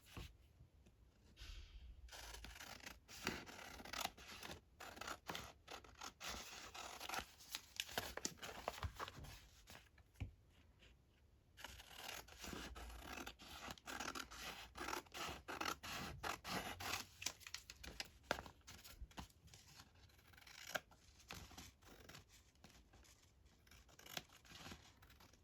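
Scissors snip and trim paper pages for a junk journal, giving repeated close, crisp cutting and rustling paper sounds in irregular bursts, with a short quiet pause partway through and no talking.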